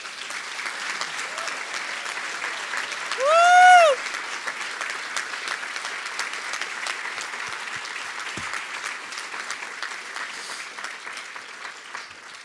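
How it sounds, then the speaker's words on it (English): An audience gives sustained applause in honour of a woman being thanked for years of service, steady clapping throughout with a brief whistle or cheer near the start. "So let's give her a round of applause, you all."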